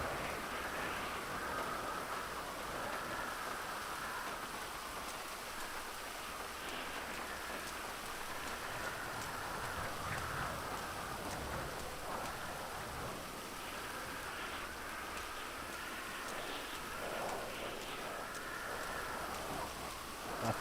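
Heavy rain in the video game GTA V (FiveM roleplay server), a steady even downpour hiss on surfaces and pavement with no talk over it, continuing unbroken throughout.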